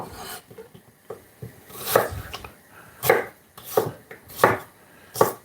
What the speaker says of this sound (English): All right, with some red onion here. So how I'm gonna cut this